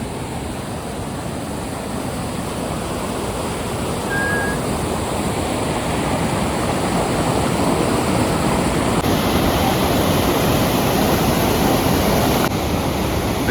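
A mountain stream near Vattavada, Munnar, rushes in a dense, continuous roar, steady and close, growing slightly louder over time with no other sounds standing out.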